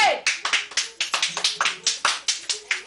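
Loud, sharp hand claps in a quick uneven rhythm, roughly a dozen close together, up close and alone.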